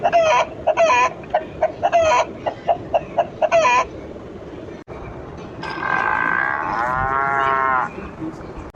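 Hens cluck in a quick, choppy run of calls, then cattle take over with a long, loud, drawn-out moo, close by in a farmyard setting.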